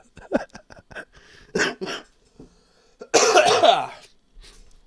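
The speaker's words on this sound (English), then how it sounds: "Start coughing." Several short coughs and throat-clearing bursts, then a loud harsh rasping burst near the end, close up and forceful.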